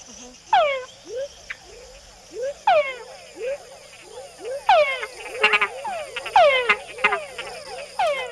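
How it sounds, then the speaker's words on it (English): Male frogs in a Panama rainforest call with descending whines followed by short chuck notes, repeated calls from several individuals overlapping near and far, under a steady insect hum. "Male frogs make the added chuck sound to attract females"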